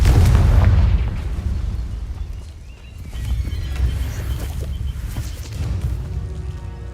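Confringo fire spell explosions in a Harry Potter video game: a loud booming blast opens, followed by rumbling, crackling bursts and further impacts that rise and fall.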